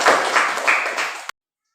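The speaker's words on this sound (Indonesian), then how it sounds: "Tepuk tangan untuk kita semua." A short burst of hand clapping from a group of teachers or participants in an Indonesian academic coaching session, dense and close, ending abruptly into silence.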